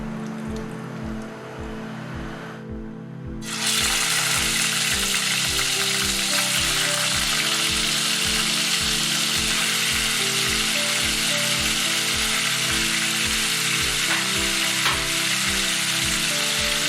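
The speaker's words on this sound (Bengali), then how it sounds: "মুরগিটাকে হালকা একটু ভেজে নেব আমরা।" Chicken pieces hit hot extra virgin olive oil in a pan, bursting into a loud, steady sizzle after a quiet start, with a rhythmic low thumping running underneath throughout.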